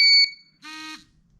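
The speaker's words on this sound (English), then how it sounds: "It beeps, lights up, and vibrates." A GZAIR portable carbon monoxide detector gives two short, shrill electronic beeps during its power-on self-test, close and clear against near silence.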